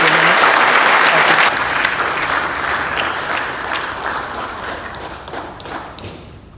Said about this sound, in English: would you please give Jonathan a big round of applause